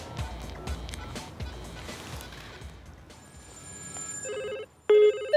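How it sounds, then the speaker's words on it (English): A large batch of mobile phones placed around an egg in a microwave begins ringing at once, electronic ring tones rising near the end over earlier shuffling noise and voices. "We've got a further 100 mobile phones ready to ring them."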